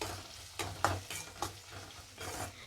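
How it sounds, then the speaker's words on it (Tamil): Shallots fry and sizzle in a pan with a steady hiss, broken by several stirring scrapes; no voices are heard. "வெங்காயம் நல்லா கலர் சேஞ்ச் ஆகட்டும். அது வரைக்கும் நல்லா ஃப்ரை ஆகட்டும்."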